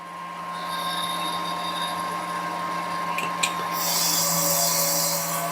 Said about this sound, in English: The old lathe slows down, look. Proper working hard, that is.